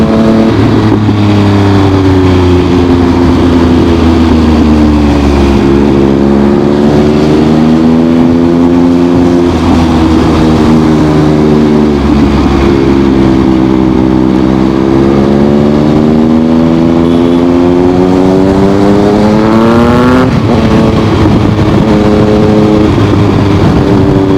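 A Triumph motorcycle engine revs loudly and steadily, its pitch rising and falling through repeated throttle swells before surging upward as the bike pulls away, with no talk over it.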